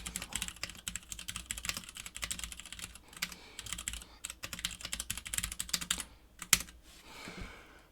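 Rapid computer keyboard typing during a casual livestream Q&A, dense clattering keystrokes in bursts, close and fairly loud, with a brief pause near the middle and a sharper clack toward the end.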